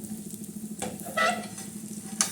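Oil sizzles faintly on a griddle being tilted to spread it before making a besan dhirda, with a soft steady crackle broken by brief louder hisses and a light metallic scrape.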